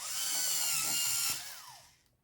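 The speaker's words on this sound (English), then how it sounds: "let's sharpen these up first" A small electric pencil sharpener grinds a colored pencil with a high, steady whir that dips in pitch under load, then winds down and stops, close by.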